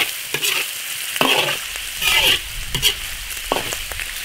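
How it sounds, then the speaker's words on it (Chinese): Pork being stir-fried in an iron wok to render out its fat, a sizzling bed of hot oil punctuated by irregular scrapes and tosses of the spatula, close and moderately loud with no voices. "先把猪油炒出来。"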